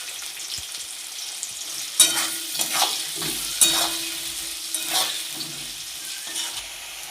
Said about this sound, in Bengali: আমার আলু পেঁয়াজ দুটোই ভাজা হয়ে গেছে